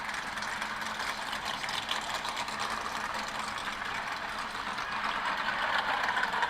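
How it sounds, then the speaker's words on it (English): NASCAR stock car engines idle together at North Wilkesboro before the All Star Race, a steady, fairly distant rumbling drone that holds even throughout with no voices. "Gentlemen, start your engine!"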